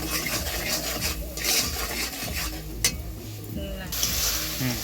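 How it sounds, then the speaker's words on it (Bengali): Spice paste with cumin, coriander, ginger paste and salt being stir-fried for pabda fish curry, a scraping, rasping stir against the pan over a soft sizzle, with occasional sharp utensil knocks. "মশলা কষানো হয়ে গেছে"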